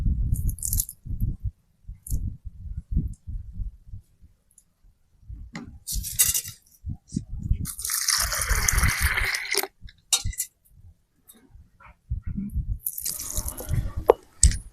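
Water poured in short bursts into a container of soaking black-eyed peas, splashing and gurgling over the beans settled at the bottom, with quiet pauses between pours.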